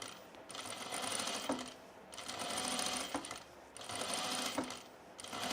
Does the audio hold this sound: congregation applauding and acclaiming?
no